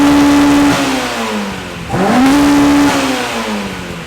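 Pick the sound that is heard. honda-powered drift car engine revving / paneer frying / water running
honda-powered drift car engine revving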